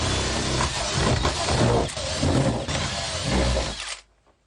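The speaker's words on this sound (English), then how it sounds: "drilling through with an auger bit" A power drill with an auger bit grinds loudly and continuously through wood for about four seconds, then stops abruptly.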